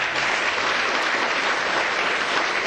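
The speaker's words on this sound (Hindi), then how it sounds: "2 बार हो जाए जरा तालियां।" Steady, dense applause from an audience at a Hindi Divas poetry gathering, a continuous wash of many hands clapping at a moderate distance with no pause between rounds and no voices on top.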